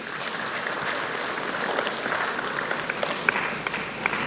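Crowd clapping at a university matriculation ceremony for new students, a broad, steady roar of applause from a large hall audience with a few sharper claps and faint cheers rising near the end.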